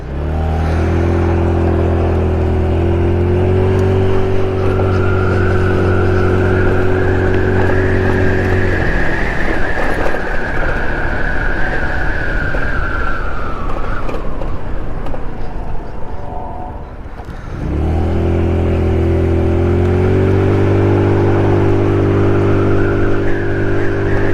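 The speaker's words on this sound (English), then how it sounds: "it's just that part hitting, rattling up against the plastic bearing that's making all that rattling noise" A GY6 scooter idles and revs, its steady engine drone joined by a continuous rattle from a loose blinker part knocking against plastic, loud and close with no talking.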